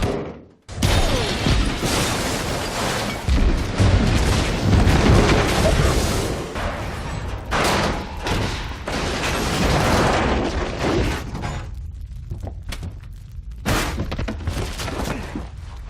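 A massive explosion from the Final Fantasy VIII game, a giant mech blowing apart: a loud, dense, sustained wall of booming, crackling blast noise that rolls on for over ten seconds before thinning into scattered bursts.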